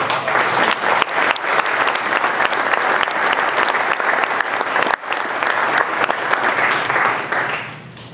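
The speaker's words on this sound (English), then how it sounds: "I'd like to give them another round of applause." Sustained applause from a luncheon audience at a city awards event fills the room, steady and dense for about seven seconds before fading out at the end.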